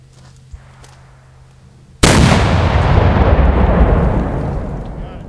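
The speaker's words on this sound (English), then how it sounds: "10 ounces of FG black powder in the English 7-pounder." After a quiet moment, an English 7-pounder cannon loaded with 10 ounces of FG black powder and a chain shot round fires a single deep, loud boom that rolls and decays over several seconds.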